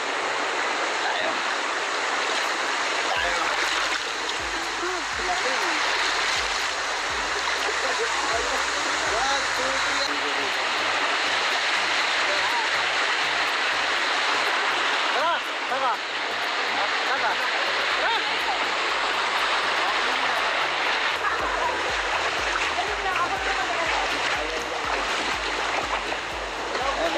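A river in Tanay, Rizal flows with a steady, close rushing wash of water that continues without a break, while low rumbling and faint voices sit beneath it.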